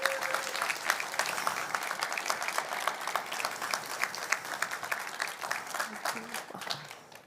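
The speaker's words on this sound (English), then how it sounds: "Give her a round of applause." An audience at an Arctic townhall side event applauds a speaker, moderately faint steady clapping that tapers off toward the end, with some voices underneath.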